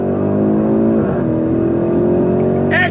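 Porsche Cayenne Turbo e-Hybrid V8 SUV accelerating hard under throttle, a loud, sustained engine roar with steady rising harmonics from inside the cabin, with a brief whine near the end.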